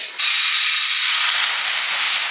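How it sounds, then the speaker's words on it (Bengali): Moong dal sizzles in a hot pan during khichuri cooking, a loud, continuous frying hiss that starts abruptly and stays steady. "মুগ ডাল ভাজা হয়ে গেছে"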